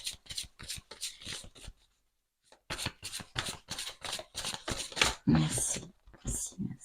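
A deck of oracle cards is shuffled in quick riffling bursts, with a brief pause midway, while someone talks softly over it.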